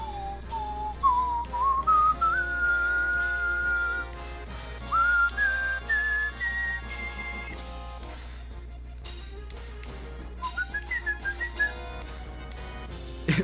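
A person whistles clear melodic lines along with Final Fantasy game music from Theatrhythm Final Bar Line, the whistled phrases rising and falling over a rhythmic backing track.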